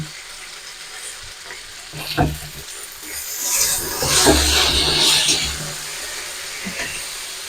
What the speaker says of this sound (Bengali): এক মিনিট মতো সিমটাকে আমি ভেজে নেব